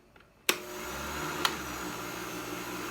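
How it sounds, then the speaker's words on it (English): Blender whirring on low speed as champurrado blends, a steady motor hum that kicks in abruptly after a brief quiet start and continues evenly, fairly close. "Cover this up, hold the top of it, and we'll start on low and we'll do blend."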